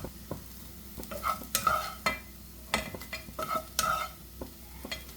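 Fried soya chunks being stirred and scooped out of a pan of hot oil, with quick scraping and clattering strokes over a bubbling fry sizzle, close and without talk.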